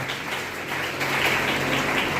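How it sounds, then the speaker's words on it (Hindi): Steady, crowded applause from a seated audience at a public gathering, an even wash of many hands clapping at once that grows slightly louder midway and carries on without pause. "एक बार इनके नाम से जोरदार तालियां बजाएंगे।"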